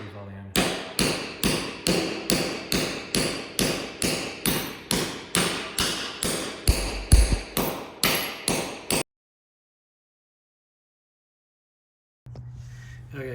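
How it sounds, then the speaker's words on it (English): A hammer drives anchor bolts into a concrete floor for a Tuxedo 9K two-post car lift, about twenty loud, evenly spaced metallic strikes close by, followed by silence and then faint background noise. "So we're gonna hammer these all in."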